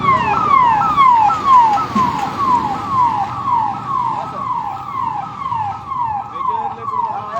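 Loud, close siren of a fire brigade vehicle at a truck fire, cycling in rapid, regular descending wails over engine and road rumble.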